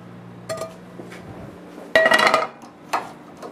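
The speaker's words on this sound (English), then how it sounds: "I'm going to dump it into the crock pot" Browned meat for slow-cooked chili is dumped into a crock pot, heard as a few clinks and scrapes of a utensil against the pot followed by a louder clattering burst, with short knocks after; no speech.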